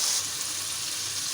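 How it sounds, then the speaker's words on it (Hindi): Marinated chicken hits hot oil and fried tomato paste in a pot, setting off a loud, continuous hiss of sizzling with no talking. "अब हम इसमें चिकन डाल देते हैं मैरिनेशन वाला।"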